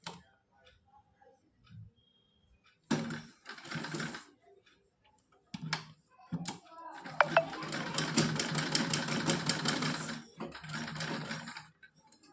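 Sewing machine stitching fabric piping onto a small dress for a Kanha ji idol: two bursts of fast, ticking mechanical chatter, the second running several seconds, close and clear, with someone speaking between them.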